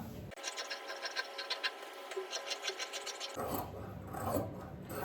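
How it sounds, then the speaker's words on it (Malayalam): Scissors trim excess blouse fabric in a quick run of rhythmic, raspy snips close to the microphone, followed by a soft rustle of cloth being handled. "എക്സസ് ആയിട്ട് വന്നേക്കുന്ന തുണിയുണ്ടല്ലോ, അതങ്ങ് കട്ട് ചെയ്ത് മാറ്റുവാണ് കേട്ടോ"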